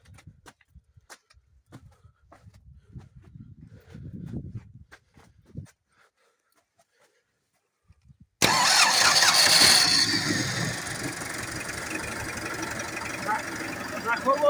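A YuMZ tractor engine cranks and fires, then settles into a loud, steady rumbling idle after a few seconds of quiet with faint voices and clatter.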